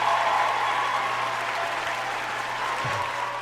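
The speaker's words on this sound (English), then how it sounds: "Let me give you a round of applause on top of that amen." A round of applause from an audience, dense steady clapping filling the whole stretch, fairly loud and unbroken with no talk over it.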